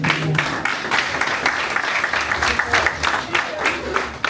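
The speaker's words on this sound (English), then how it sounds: "a clap for the guests" An audience at a Sierra Leone diaspora committee inauguration in Brussels claps for the guests: a brief, continuous burst of many hands, with a voice faintly mixed in.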